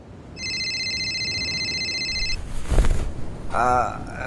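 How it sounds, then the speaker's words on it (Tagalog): A mobile phone rings with a bright electronic ringtone for about two seconds, loud and close, then stops as a voice speaks and more sounds follow. "4:00 pa lang ay nagri-ring na ang cellphone ko"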